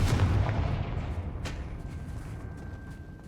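Confringo blast spell from a Harry Potter-style video game, one deep booming explosion at the start that rolls off into a long fading rumble, with a second softer thump following, loud and close with no speech.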